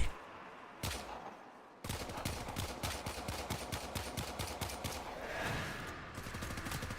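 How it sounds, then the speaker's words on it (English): Video game gunfire crackles in rapid bursts, a couple of sharp single shots followed by a dense fusillade of quick repeating fire, loud and close with no talking. "My bullets do no damage."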